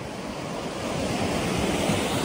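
Ocean waves break on Hua Hin beach in Thailand, a steady broad rushing of surf mixed with wind noise against the microphone, loud and continuous.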